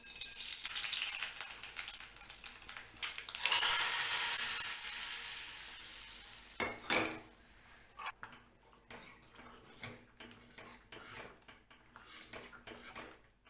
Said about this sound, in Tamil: கடுகும் உளுத்தம் பருப்பும் சேர்த்து தாளிச்சிடலாம்.